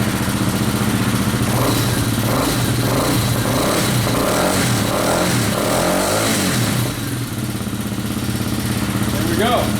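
A Hawk DLX motorcycle engine runs steadily after a restart, a loud continuous idle with slight rises in pitch throughout, while a person talks over it.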